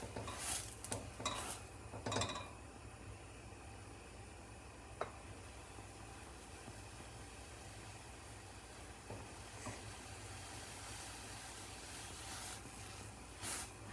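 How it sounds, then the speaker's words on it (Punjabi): A spoon stirs khas khas (poppy seed), makhana and almond milk in a pot on a stove. A few clinks come early and one more near the middle, then a soft, steady scraping runs underneath with no talk. "ਥੋੜਾ ਜਿਹਾ ਹਿਲਾ ਲੈਣੇ"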